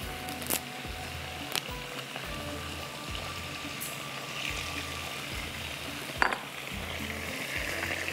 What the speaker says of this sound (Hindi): कड़ी पत्ते भी अभी मैं इसी में डाल देती हूँ ऊपर से